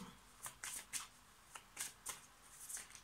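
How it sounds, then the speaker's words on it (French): Oracle cards being shuffled and cut make soft, close riffling flutters in quick uneven bursts, faint and with no talking. "je tire une carte de la sagesse de l'oracle"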